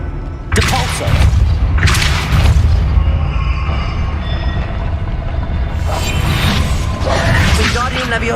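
Hogwarts Legacy gameplay where the Depulso spell sets off loud booming blasts and thuds, with several heavy impacts followed by rumbling mechanical noise.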